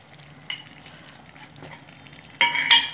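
A spoon stirs bottle gourd curry with shol fish in a pan, giving soft scraping strokes over a quiet sizzle, with a couple of sharper metallic scrapes near the end.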